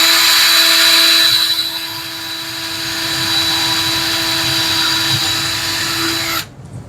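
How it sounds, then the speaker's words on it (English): A power drill boring mounting screw holes in a wooden bird nesting box, a loud steady high-pitched whine that runs for several seconds, eases slightly, then cuts off abruptly near the end. "drill our holes for our mounting screws to the tree or wall we mount it on"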